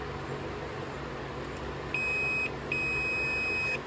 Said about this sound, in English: you should hear that same beep once I make the connection